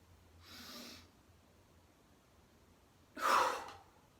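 Two slow breaths during a meditation, a soft inhale followed by a louder, longer exhale blown out through the mouth, close and quiet against a hushed room.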